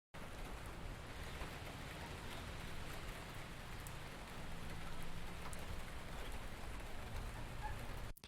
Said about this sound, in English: And then I recorded some rain maybe a month ago